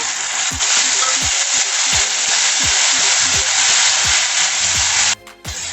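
Tamarind water poured into tomatoes frying in a pan for bisi bele bath sets off a loud, steady hiss. Rhythmic stirring clicks run under it, and the sizzle cuts off sharply near the end.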